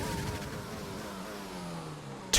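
An F1 car in F1 2020 accelerating hard down the main straight at Abu Dhabi with DRS open, a steady high-pitched engine whine rising through the gears, close and continuous.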